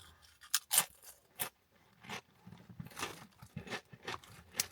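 Doritos Flamin' Hot Korean BBQ chips crunch sharply in bursts of chewing, some loud bites and others muffled, heard up close with no speech.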